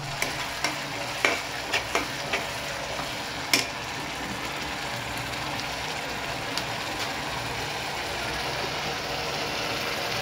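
Tomatoes sizzle steadily in a pan as they cook down, with a run of sharp spoon clicks and scrapes in the first few seconds before the frying hiss carries on alone.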